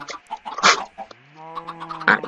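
Minecraft chickens cluck and squawk in short, close bursts, with one drawn-out, rising call in the middle.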